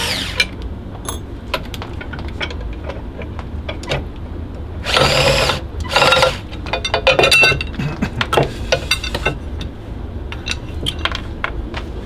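A cover is being taken off a Baldor 612R six-inch bench grinder, with sharp metallic clinks and taps scattered throughout and a couple of brief scraping bursts in the middle, close up and with no talking.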